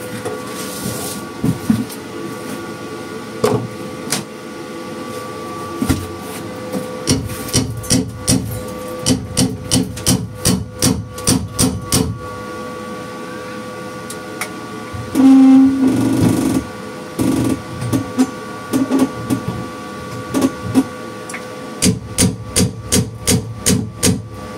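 Repeated sharp knocks in uneven bursts, like a hammer striking, loud and close, with pauses between runs of blows.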